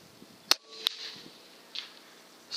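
A rifle loaded with 142 grain Nosler polytip ammunition fires a sharp, sudden crack outdoors, followed by a second fainter report and soft trailing noise, with no one speaking.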